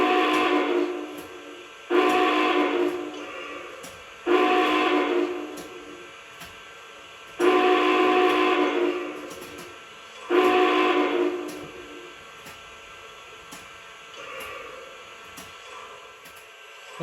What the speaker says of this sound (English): Let's go ahead and check out the whistle.